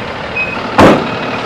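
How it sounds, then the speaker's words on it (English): A truck drives close by with a steady engine hum, then a brief loud whoosh or thump near the end, without talking. "He's gonna drive the truck."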